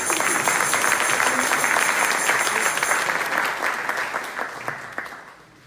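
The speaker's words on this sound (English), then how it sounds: "Applaud yourself." Church congregation applauding at a Sunday service, a dense wash of clapping that holds steady for several seconds before thinning and fading out.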